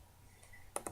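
Two quick, crisp computer mouse clicks land near the end, close and faint, selecting the pen tool in Photoshop CS6.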